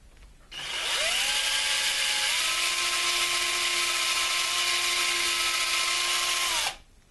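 A power drill spins up and whirs steadily for several seconds driving a screw into PVC, its pitch shifting slightly under load, then winds down; close and loud.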